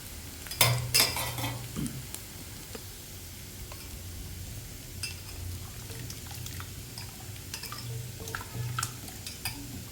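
Taro root pieces frying in a pan, a low steady sizzle with a sharp clatter as they are added, then intermittent stirring clinks and scrapes close by, with no voices.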